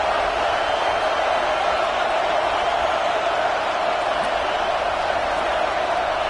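Alabama Crimson Tide home crowd at Saban Field roaring on a third down in a football game against Michigan, a dense, continuous wall of stadium noise that holds steady throughout.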